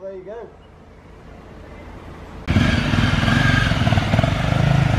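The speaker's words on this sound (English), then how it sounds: "Can you do a wheelie? Do a wheelie, that'd be brilliant." A motorcycle engine suddenly roars into a loud, steady revving drone at close range after a short stretch of quieter street ambience, with a voice briefly heard at the start.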